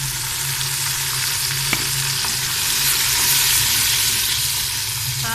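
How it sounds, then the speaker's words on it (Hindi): Browned onions sizzling in a pan with ginger garlic paste just added, a loud, dense, steady frying hiss with a faint stir or tap, close and continuous. "अब हम डालेंगे अदरक लहसुन का पेस्ट"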